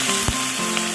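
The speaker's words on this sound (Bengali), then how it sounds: "এই তেলে দিয়ে দেব কাঁচা মরিচ, গোটা জিরা আর তেজপাতা, দিয়ে দেবো পেঁয়াজ আর রসুন" Green chilies, whole cumin, bay leaves, onion and garlic hit hot oil in a pan, giving a bright, steady sizzle with a short crackling burst near the start, close and continuous.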